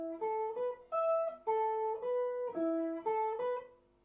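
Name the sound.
electric guitar note pattern, clean channel with chorus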